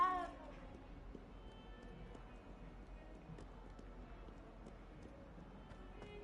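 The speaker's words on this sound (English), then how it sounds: "Is this tower or hallway just full of cats at all times?" Cats meowing in the video game Hogwarts Legacy inside a castle tower or hallway, a few soft mews at the start and then faint game ambience.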